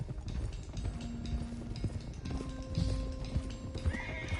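Horses in the video game Red Dead Redemption 2 gallop with quick, steady hoof clip-clops and a whinny, fairly close with ambient game sound beneath.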